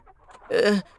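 A chicken lets out a single short, loud cluck up close, rising sharply after a moment of near quiet and then cutting off.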